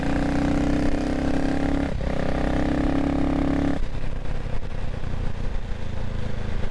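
A CCM Spitfire Six motorcycle engine droning loud and close at high revs while riding on a wet road, holding a steady roar, briefly dipping near the two-second mark, then easing off into lower rumbling with wind noise.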